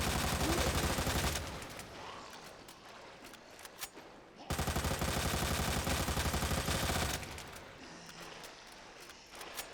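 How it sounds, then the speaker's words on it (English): Sustained automatic gunfire aimed at zombies in Resident Evil set in Raccoon City, two long loud bursts of rapid shots separated by a quieter stretch of sparse shots. "God, I love shooting these things."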